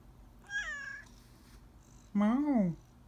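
A cat meows twice, a short thin call followed by a longer, louder, drawn-out meow close by.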